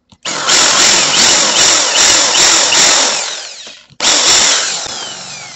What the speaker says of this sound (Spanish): Entonces, vamos a perforarlo.